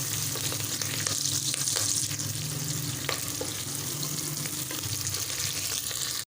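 Thickly cut onions fry in hot oil in a pan, giving a continuous loud sizzling hiss with occasional soft stirring scrapes, ending abruptly.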